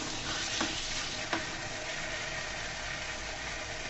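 Brinjal pickle frying and being stirred in a pan on low heat, a steady soft sizzle with a couple of brief scraping stir sounds near the start, close and alone with no talking.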